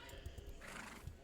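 Horse neighing in a video game, a short whinny with a few low thuds like hooves, heard alone at moderate loudness.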